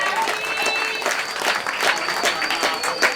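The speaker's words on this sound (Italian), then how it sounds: "una mano, l'altra e si battono insieme, l'applauso, così" Audience applause at a 25 April Liberation Day jam session in a club, many hands clapping in a steady dense patter for a few seconds, close and fairly loud.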